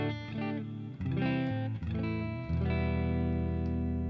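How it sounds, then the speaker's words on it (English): Electric guitar with a full clean tone through a Boss Katana MK-II amp: loud, sustained chords ring alone, changing a few times, with the last one held to the end. "Let's look at full clean."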